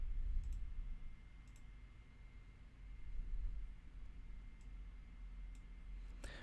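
A computer mouse clicks several times in a quiet room, short sharp clicks spaced irregularly over low background hum, with no talking.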